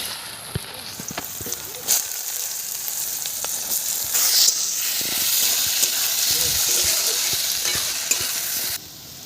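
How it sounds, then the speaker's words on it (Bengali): Potatoes frying in hot oil in a heated kadai with dried red chili tempering, a loud continuous sizzle with scattered pops and clatters of the spatula, close up. "কড়া গরম হয়ে গেছে, তেল ঢেলে দিলাম, শুকনো লঙ্কা ফোড়নে দিলাম, আলুগুলো তুলে দিলাম।"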